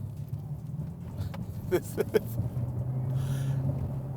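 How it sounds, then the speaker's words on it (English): A low, steady engine drone hums throughout, thin and oddly featureless, with a few short breathy bursts near the middle: a simulated gasoline engine sound played through the speakers of a 2023 Genesis GV60 Performance electric car. "It's a very odd sounding gasoline engine."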